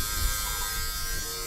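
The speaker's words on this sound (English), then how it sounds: "The other method I saw was with an actual lint shaver, just an electric shaver." An electric lint shaver runs steadily on the worn upholstery of a Volvo 850 R, a continuous close buzzing hum that holds level throughout, with no talking.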